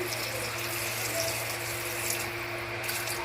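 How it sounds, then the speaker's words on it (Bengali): Water pours into a pressure cooker holding chickpeas and potatoes, a steady soft rushing stream running throughout at moderate level. "আর একটু জল দিয়ে দিই, অল্প করে"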